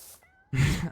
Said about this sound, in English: Why am I hearing like a meow?